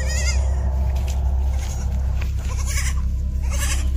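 A goat kid lying on the ground and struggling bleats repeatedly, loud and near, over a steady low droning background.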